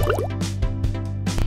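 Liquid food colouring drips into water in quick, close, wet plops and small splashes over a steady low hum, with no talking.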